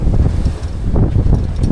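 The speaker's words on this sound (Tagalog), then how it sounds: "Yung mas malakas kasi hangin." Loud, strong monsoon wind at sea roars into the microphone with a heavy low rumble, buffeting continuously in a short, close burst with no talking.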